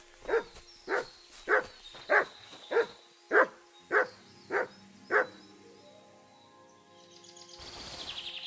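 Nine evenly spaced dog barks ring out over about five seconds in a Kingdom Come: Deliverance II game scene, clear and close, before fading into soft game ambience and a rising rustle.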